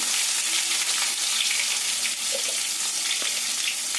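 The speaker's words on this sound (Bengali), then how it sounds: "সামান্য একটু নুন দিয়ে আলুগুলোকে লাল লাল করে ভেজে নিচ্ছি।" Potatoes fry with turmeric and salt in a pan, giving a steady, fairly quiet hiss and sizzle with a few faint clinks of stirring.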